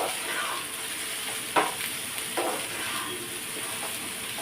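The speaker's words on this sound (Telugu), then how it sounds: "మీకు మూత పెట్టకుండా ఇలాగే కలుపుకోండి." Vegetables sizzling in about two spoons of oil in an uncovered pan, a steady close hiss with a couple of sharp scraping stirs partway through, no voices.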